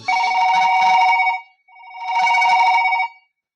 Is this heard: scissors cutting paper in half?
no